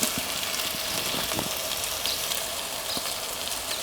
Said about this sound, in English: frying that off in the oil that we've got